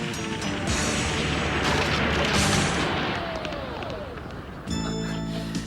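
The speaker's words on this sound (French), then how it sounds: "Une explosion?" A loud crash-like burst from an explosion in an animated French-dubbed series swells over a couple of seconds amid dense rumbling noise, then settles into a steady, busy background.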